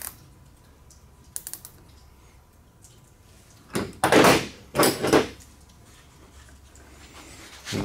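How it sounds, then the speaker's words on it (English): A plastic zip tie ratchets tight around an RC model jet, a Freewing F-86 Sabre, with two bursts of rapid clicking up close after a few faint taps and a quiet stretch. "We're going to get that zip tie around here."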